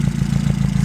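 The exhaust of a 1971 Reliant 750 trike with its small 750cc car engine idles close by, a steady low, pulsing burble with a rapid regular beat over a brief moment.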